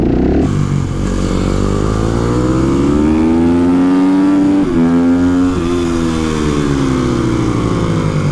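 A supermoto (motard) motorcycle engine revs up close and loud, its pitch climbing steadily with brief dips between throttle blips and no voices over it.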